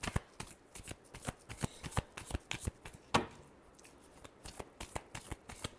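Tarot cards being shuffled by hand, a rapid run of crisp riffling flicks and slaps repeating close up with a brief louder snap midway, no talking.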